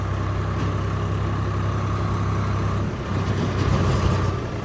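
Swaraj 855 tractors rumble along a road in a line with a steady, loud diesel drone that dips briefly, then swells again as more pass.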